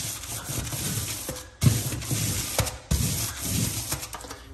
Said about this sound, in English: You're gonna roll over those ridges and they're gone.